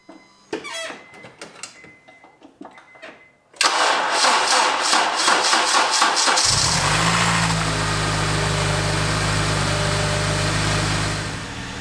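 Clicks and rattles give way to a car engine cranking and catching, then settling into a steady, close, rumbling idle.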